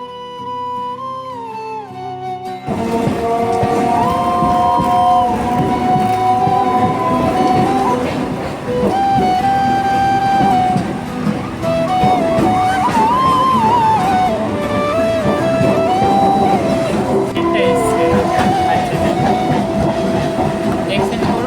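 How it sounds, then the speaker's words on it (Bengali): Inside a moving passenger train, a loud, steady rumble rolls on with rail clatter and tonal wheel squeals, after a brief quieter opening. "ট্রেনে চেপে গিয়ে আমরা সিটও পেয়ে গেছি"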